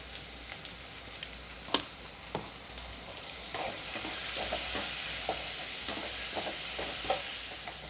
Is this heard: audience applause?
no